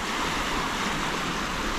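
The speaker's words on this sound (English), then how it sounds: "Waves are coming in." Ocean surf rolls onto the shore of the Firth of Thames near Auckland, New Zealand, a constant broad roar of breaking waves heard up close with no talking.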